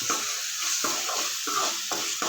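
Garlic-ginger paste frying for plain fried rice, with rhythmic stirring strokes about every half second over a continuous close sizzle.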